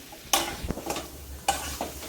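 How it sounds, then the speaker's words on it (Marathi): Dates and figs being sautéed in a pan for dry-fruit modak, soft sizzling beneath several loud spatula scrapes and stirring knocks, close and without talk. "थोडीशी मऊ होईपर्यंत परतून घ्यायचं."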